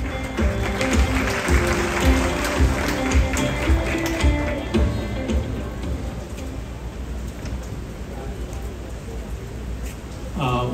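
Crowd at a factory inauguration ceremony applauding a speaker, a dense patter of clapping that fades gradually, with voices under it and a brief sound at the end.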